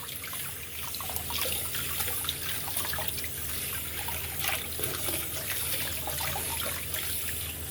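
Minced pork rinsed under a running kitchen tap, with a steady close splash and trickle of water over the meat in a sink, continuing without a break and with no talking.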